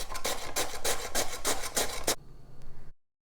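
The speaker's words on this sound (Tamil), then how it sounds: "இதை நம்ம துருவி எடுத்துக்கலாம்." Peeled potato grated by hand over a grater, a quick steady run of rough rasping strokes, close and fairly loud, then stopping, with no one talking.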